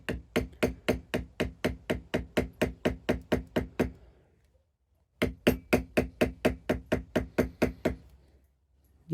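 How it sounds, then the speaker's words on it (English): A leather-carving tool is hammered into leather while a flower is carved, sharp even taps in a fast steady rhythm, a run of about fifteen strikes, a short pause, then another matching run. "The hammering shouldn't change. Just try to keep it nice and consistent."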